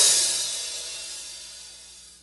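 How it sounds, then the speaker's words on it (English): One open hi-hat hit on a drum kit, the cymbals lifted slightly apart, giving a bright, loud sizzling wash that slowly fades over a couple of seconds, alone and close. "So when you open the hi-hat, you just like lift it up a tiny little bit"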